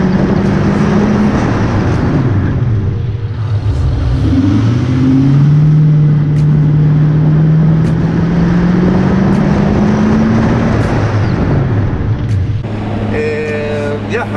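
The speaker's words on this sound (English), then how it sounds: "Last thing you want to do is bed in your pads." A Genesis V8 car drives on new Brembo brake pads being bedded in, its engine droning and rising in a steady rev under road rumble, loud and close, with a person talking over it.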